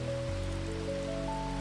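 Gentle rain falls steadily as an even, broadband hiss, with faint low tonal hums running underneath throughout.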